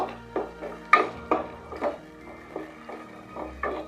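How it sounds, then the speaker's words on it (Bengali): A spatula stirring a sauce mixture with capsicum in a pan for chili chicken, about eight distinct scraping knocks in an uneven rhythm, close and fairly quiet, with no talking. "ক্যাপসিকামের সাথে মিশিয়ে নেড়ে দেব।"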